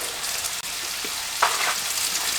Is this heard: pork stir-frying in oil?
yes